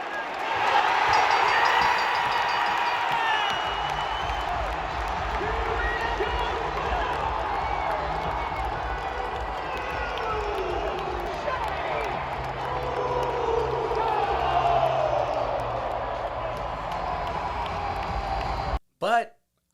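A WrestleMania arena crowd roars nonstop as Jey Uso wins his first World Heavyweight Championship, a dense and sustained wall of cheering and clapping that fades only at the very end.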